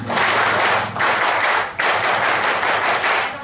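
A lecture audience claps together in a counted rhythmic pattern, loud bursts of massed hand claps repeating in quick groups with brief pauses between them.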